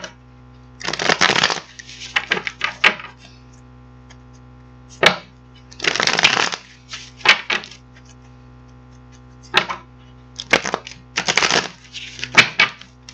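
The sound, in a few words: tarot cards being shuffled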